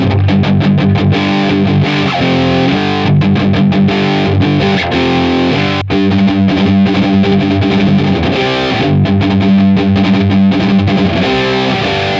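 Heavily distorted electric guitar chugs through a loud, dense metal riff with chorused effects, continuous and close.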